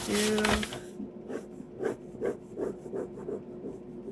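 Material is scraped off a sculpted lizard head pattern in a series of short, rhythmic rasping strokes, about ten quick passes close by, following a brief louder burst at the start.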